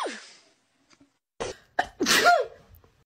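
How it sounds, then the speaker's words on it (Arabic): A loud, close human sneeze with a breathy inhale and a sharp explosive burst, preceded by a few shorter huffs and catches of breath. "في ناس بتعطس بطريقة مهذبة، وفي ناس بتعطس بطريقة يعني عالية"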